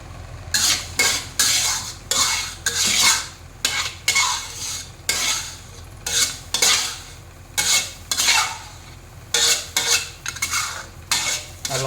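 Garlic is stirred in a pan for seafood fried rice, a metal spatula scraping in repeated bursts with short pauses against a low steady hum.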